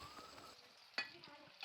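Raw papaya pieces fry in hot coconut oil with a quiet, continuous sizzle, broken by a couple of sharper crackles and spits.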